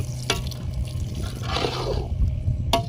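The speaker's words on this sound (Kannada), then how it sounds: "ನೀರು ಹಾಕ್ತಾ ಇದ್ದೀನಿ" Water poured into a pan of simmering boti gojju curry, a brief splashing gush in the middle over a low background hum, with a sharp clink near the end.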